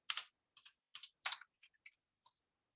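Sparse, irregular keystrokes on a computer keyboard while writing C code, about eight crisp clicks spaced unevenly over a few seconds, close and quiet, with no talking.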